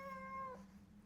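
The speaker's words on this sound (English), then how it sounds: "And that's my cat Stella." A pet cat gives one drawn-out, tonal meow indoors, nearby but soft, with no one talking over it.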